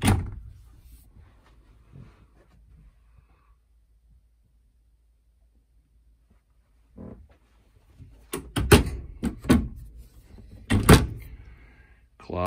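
An interior panel door on a 2013 Newmar Ventana RV is opened in front of the washer and dryer. After a quiet stretch there is a soft bump, then a close burst of several sharp clicks and knocks.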